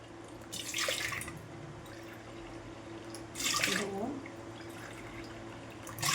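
Water poured from a bowl onto soaked sabudana in three short splashing bursts, quiet and close, with low background hum and no voice over the pours.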